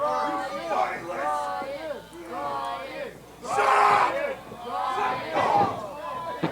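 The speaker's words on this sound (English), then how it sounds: "The crowd showing their appreciation" Arena crowd at a live wrestling show roaring and cheering in response to a wrestler's taunt, with swelling waves of shouts and yells, loudest around the middle and again near the end, under and around commentary voices.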